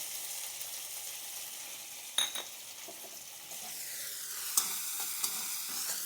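Ginger fries in oil with a faint steady sizzle, interrupted by a few spoon stirs and light clinks against the pan, close and quiet, with no one speaking.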